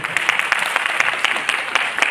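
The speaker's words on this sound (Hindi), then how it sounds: "तो एक बार मेरी वाइफ के लिए जोरदार तालियां बजा देंगे।" Audience applause breaks out in a hall, a dense patter of clapping at steady moderate loudness throughout the short stretch, with no voices over it.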